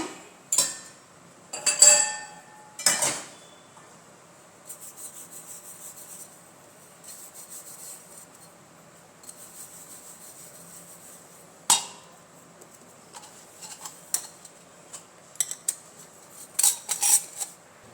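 A metal chakli press with a star disc is oiled and put together, giving several separate bursts of close metallic clinks, scrapes and rubbing taps with quiet gaps between them.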